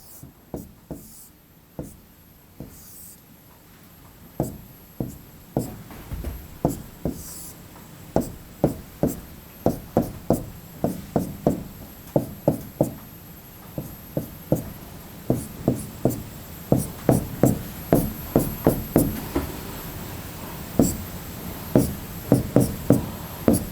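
Chalk taps and scratches on a board while pentane isomer structures are drawn, sharp distinct strikes coming in quick irregular bursts that grow steadier and louder, near and alone without talk.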